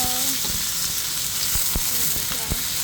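Native chicken pieces sizzle and fry in a hot pot, a steady crackling hiss with a few sharp spatters and stirring knocks, close and continuous.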